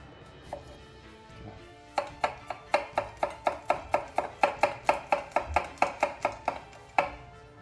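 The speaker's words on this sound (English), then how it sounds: "we're going to finely chop this" Knife finely chopping pico de gallo ingredients on a cutting board, a steady run of about twenty sharp, evenly spaced chops up close, preceded by a few scattered taps, no talking.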